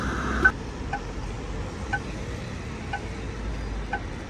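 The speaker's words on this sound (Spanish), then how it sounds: "este es el sonido de los semáforos que para mí parece un taladro" A pedestrian traffic light signal in Ljubljana gives short, drill-like buzzing pulses about once per second, faint over steady street ambience.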